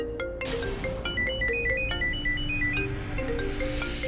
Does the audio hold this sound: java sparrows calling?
no